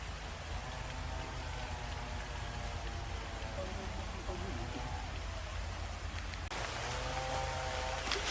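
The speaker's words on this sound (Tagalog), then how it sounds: "bali kaabot na kami ng ulan dito sa sasahan" Rain pouring outdoors in a rural coastal area while hunting, a dense steady hiss of drops that thickens near the end, constant and enveloping with no pause.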